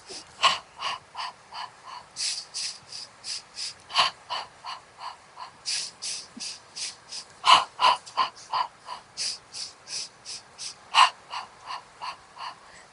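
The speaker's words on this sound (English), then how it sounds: "I'm nice and stable as I pump my arms and I breathe" Rhythmic, forceful breaths puff in and out close by during the Pilates Hundred, sharp repeated exhalations and inhalations in quick regular pulses while the arms pump, with no talking.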